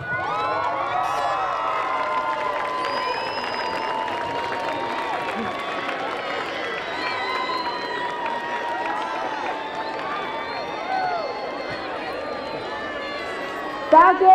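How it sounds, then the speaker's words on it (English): At a high school commencement, a large crowd of graduates cheers and whoops for their parents, a busy wash of shouting voices and clapping that holds steady throughout. "Turn to your parents and give them a round of applause."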